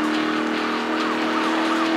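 Car engine tone in the NFS Most Wanted racing game, a steady close whine with faint wavering tire squeal, loud and continuous, no speech.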